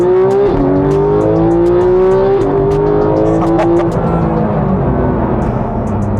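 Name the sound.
Porsche 911 GT3 accelerating and shifting 7-speed PDK transmission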